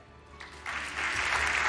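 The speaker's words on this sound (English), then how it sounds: "big round of applause for the Austrian factory" Applause from an awards-ceremony audience for KTM, the Austrian factory named best Moto3 constructor at the MotoGP awards, starting as a soft patter and swelling into fuller, steady clapping.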